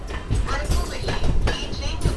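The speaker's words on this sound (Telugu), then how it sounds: "ట్రైన్ వచ్చేసి బీబీ నగర్ నుంచి అయితే బయలుదేరిపోయింది" A MEMU passenger train pulling out of Bibinagar station on the Secunderabad–Warangal line, heard from inside: continuous rumbling carriage noise with rhythmic clatter and clanks, and faint voices now and then underneath.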